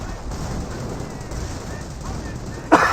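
Gunfire in the WWII strategy game Company of Heroes, a dense continuous wash of distant small-arms shots and battle noise, with a sharper, louder burst near the end.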